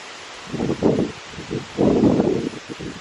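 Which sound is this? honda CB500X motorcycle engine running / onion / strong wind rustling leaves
strong wind rustling leaves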